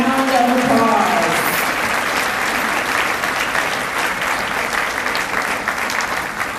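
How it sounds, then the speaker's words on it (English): Sustained applause from an audience at a morning volunteer awards ceremony honoring community volunteers, steady and dense throughout, with some voices mixed in early. "Let's give them all a big round of applause."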